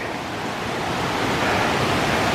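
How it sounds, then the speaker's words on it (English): Rushing river water at Rose River Falls in the backcountry, a steady, loud broadband roar of flowing water that holds constant and close throughout, with no other sounds. "I finally made it down to the river"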